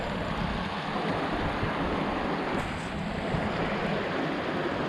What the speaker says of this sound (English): There's a series of rapids and water pools and then a deep splash pool here.